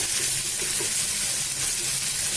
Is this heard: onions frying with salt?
yes